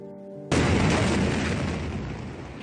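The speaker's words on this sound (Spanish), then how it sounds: "Esta explosión sucedió muy cerca." A huge explosion in Beirut erupts suddenly after a brief moment of quiet, becoming a loud, sustained roar and rumble that slowly fades over the next two seconds.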